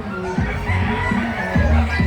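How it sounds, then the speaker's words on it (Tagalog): A rare native Grassback chicken in Calumpit gives repeated short crowing and clucking calls at close range, several bursts in a loose rhythm over steady background noise. "Bihirang manok yan oh."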